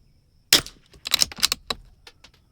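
A Savage Mark II .22 LR rifle fired at a shooting range, one sharp crack followed by a cluster of quick snapping reports, fairly faint and close, with no talking.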